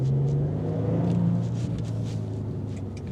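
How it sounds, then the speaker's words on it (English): A Maserati engine rumbles loudly and steadily, a deep mechanical roar with a slight rise in revs, close and continuous with no voices. "It's like a deep mechanical roar that builds into an Italian rasp when you rev it out"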